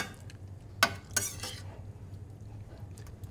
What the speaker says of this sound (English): So we'll stir these in, get them coated a little bit